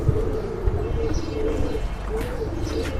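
Caged pigeons in a breeding loft coo in low, rolling, repeated calls, close and continuous over a soft background hum.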